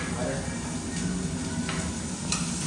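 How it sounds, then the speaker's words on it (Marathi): Chicken fries in a pan while being stirred, giving a dense, continuous sizzle with scraping stirs, close and steady throughout. "चिकन फ्राय आणि चिकन रस्सा बनवून घेतले."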